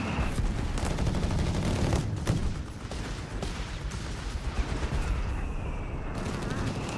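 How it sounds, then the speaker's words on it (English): In a Company of Heroes 3 battle, mortar fire lands around an anti-tank position amid rumbling explosions and bursts of gunfire that form a dense, loud wash of combat noise, with commentary talk over it. "Got some mortar fire here around the anti-tank."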